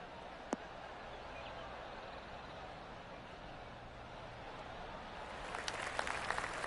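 Golf gallery applause from PGA Tour 2K23 at the 3M Open, TPC Twin Cities: a steady wash of clapping and crowd noise throughout, with a few sharper claps rising near the end.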